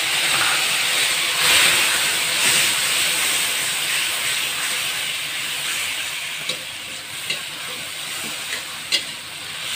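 Ground chili spice paste frying in hot oil for egg balado, a loud continuous sizzle and hiss with faint stirring clicks and scrapes toward the end.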